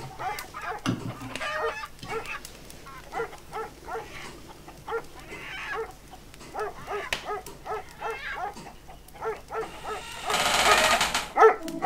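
A dog barks repeatedly in short bursts at moderate distance, with farmyard fowl clucking nearby and a rushing noise near the end.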